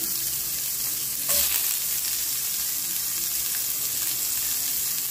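Garlic and onion frying in a pan, a steady bright sizzle that flares louder as ingredients hit the oil, continuous and close with no talk.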